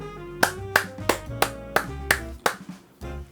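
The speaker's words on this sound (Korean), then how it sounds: "박수 한번 칩시다." Hand clapping, close and fairly loud, about six sharp claps in an uneven rhythm over a few seconds with no talking.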